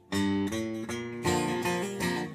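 An acoustic guitar rings out a short run of strummed chords from an instrumental section, changing every half second or so, close and steady without any talking.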